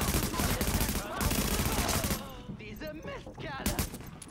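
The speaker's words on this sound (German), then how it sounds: "Den kleinen Knaller gezündet." A firecracker set off in the video game Tom Clancy's The Division brings a rapid crackling burst of pops, followed by a second volley, loud and dense, while someone talks over part of it.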